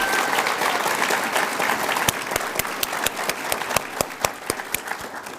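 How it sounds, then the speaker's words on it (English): A room audience at a Department of Defense military spouse employment partnership ceremony breaks into applause, dense clapping at first that thins into scattered, distinct claps toward the end. "could I ask for a big round of applause for Eddie Menser"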